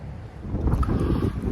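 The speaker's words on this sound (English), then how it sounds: "Now it's like windy as fuck." Gusty wind buffets the microphone outdoors near a hotel, a low blustery roar that swells and churns for a moment with no talking.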